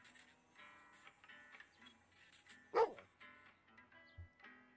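A cartoon dog in the video game Lost in Play gives one sharp bark amid a soft jaunty game soundtrack, with a low grunt shortly after.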